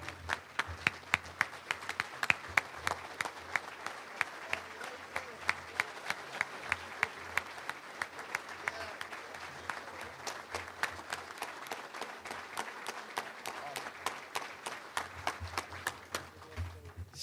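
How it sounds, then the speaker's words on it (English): Audience applause at a Little Rock Touchdown Club luncheon, with steady, dense clapping from a seated crowd that holds for about seventeen seconds, moderately loud and close. "So let's give Ladarius Skelton a Little Rock Touchdown Club round of applause."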